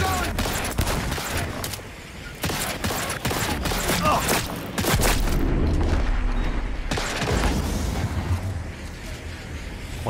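Enemy gunfire in the video game Cyberpunk 2077: rapid, sharp bursts of shots and booming impacts come in repeated volleys at moderate volume, with brief quieter gaps between the barrages.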